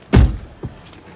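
A truck's back door pushed open: one heavy, close thunk followed by a softer knock and a faint rattle, alone without talk.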